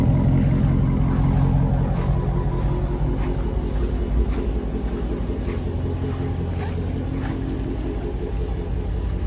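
A 2015 Dodge Challenger Scat Pack Shaker with a 6.4L V8 idles close by, giving a steady, deep, rumbling chug that holds evenly throughout.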